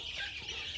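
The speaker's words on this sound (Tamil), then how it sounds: "எவ்வளோ விரும்பி சாப்பிடுது பாருங்கள் கோழி" Free-range country chickens on a poultry farm cluck steadily and close by while pecking at termites chopped from a termite mound, a continuous busy flock chatter with no talking.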